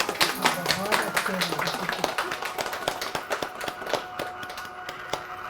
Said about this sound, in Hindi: सभी अपने लिए जोरदार तालियों से स्वागत करेंगे।